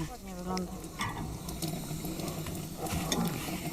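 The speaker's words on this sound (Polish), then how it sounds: "a tam skwierczy mięsko na grillu" Meat sizzles on an outdoor grill, a continuous crackling hiss with small pops, heard close by, with a voice briefly audible at the start.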